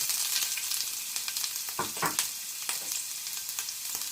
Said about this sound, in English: Make sure the Channa dal slightly turns into brown color, and I'm adding also ginger